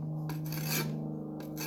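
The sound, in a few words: shovel blade sharpened by rubbing with a brick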